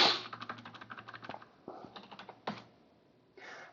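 Computer keyboard keys clatter in quick bursts of close, crisp clicks as a command is typed, with short pauses between runs and a final longer keystroke.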